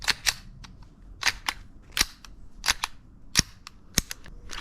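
Sharp metallic clacks and snaps of a full metal airsoft pistol slide being racked and released, a dozen or so crisp clicks in quick bursts, close and clear.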